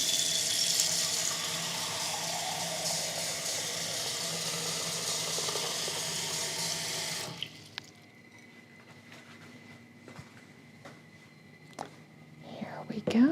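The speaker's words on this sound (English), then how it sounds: "Let me get a bowl of water" Tap water runs steadily into a bowl for about seven seconds, close and even, then stops, leaving a few faint drips and small clinks in a quiet room.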